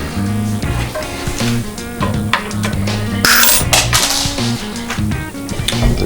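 Snips of wire cutters through a mini bike's governor linkage wire: a series of sharp metallic clicks and clinks, some rhythmic, close and loud, with a brighter snap partway through.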